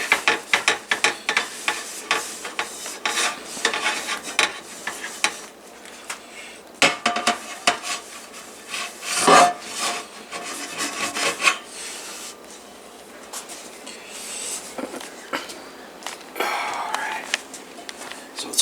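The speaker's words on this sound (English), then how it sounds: "I'm going to take the cloth and dry it off real quick." Cloth rubbing and wiping a cast iron pan dry, a dense run of soft scuffing strokes with short pauses, close by.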